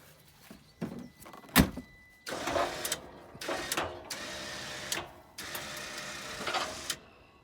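A snow plow on a Kawasaki General XP is lowered, with a series of motor whirs broken by thumps and clunks at close range. The sounds are intermittent and moderately loud, with no speech.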